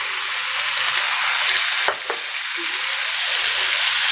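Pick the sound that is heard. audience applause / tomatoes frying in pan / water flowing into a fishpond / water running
tomatoes frying in pan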